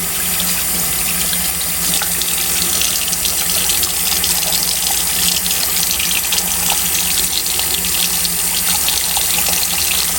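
Tap water running steadily into a sink while makeup brushes are washed, a continuous loud rushing splash for the whole stretch with no voices.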